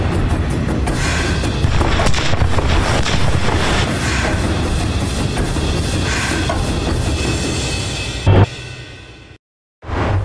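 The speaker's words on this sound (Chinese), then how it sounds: "炮弹一直在身边爆炸" Artillery blasts and rolling booms from a women's militia military tournament course in Yunnan, heard as a dense, continuous roar of explosions close by, ending in a sharp burst before a brief silence.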